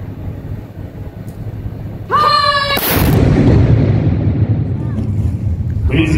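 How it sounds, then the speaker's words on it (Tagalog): Historic fort's time gun firing on the parade square in Kingston, Ontario: a single loud, close cannon boom followed by a long rumbling echo, with a short whistle-like tone and crowd murmur just before. "le détachement d'artillerie du fort a envoyé fera tirer un canon sur la place d'armes"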